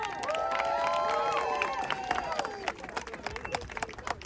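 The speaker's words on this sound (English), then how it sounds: "A big round of applause." A crowd at a political rally claps and cheers while voices call out over it. The sound is lively and sustained, with scattered sharp claps toward the end.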